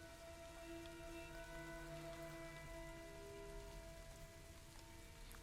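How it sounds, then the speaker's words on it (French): Heavy rain falls in A Plague Tale: Innocence as a constant dense hiss, with a low sustained musical drone underneath and no voices. "Sous cette pluie battante là."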